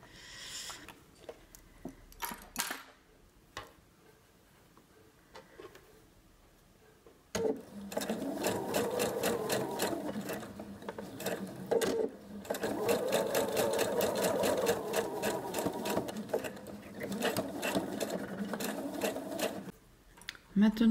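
A sewing machine stitches piping along an existing seam on a fabric pouch, starting with brief bursts, then running in long steady whirring stretches. Someone talks quietly in between.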